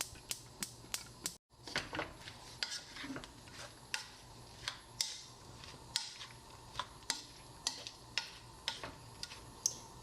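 Gourd stir-fried in perilla oil in a pan, with a steady run of sharp utensil clicks and taps against the pan over a soft low frying hiss, close and fairly quiet.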